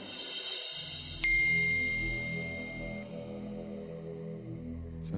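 A single bright message notification ding sounds at once over a sustained musical background, ringing out and decaying over about two seconds, with no one talking.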